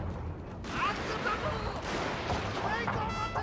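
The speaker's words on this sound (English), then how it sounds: "you can see one volley, and these revolver cav are gone" Rifle volley crackling in Shogun 2 Total War, a burst of overlapping gunfire with dense rattling shots throughout, heard beneath someone speaking over the battle.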